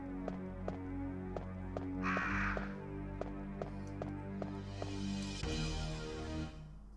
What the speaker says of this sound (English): Shut up, crows. Nobody cares.